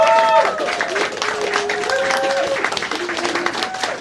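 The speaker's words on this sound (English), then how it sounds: "Can we first of all have a massive round of applause for all of our panellists this evening?" Applause for the panellists at an evening panel event fills the room, a dense wash of clapping with crowd noise and scattered tonal sounds layered over it.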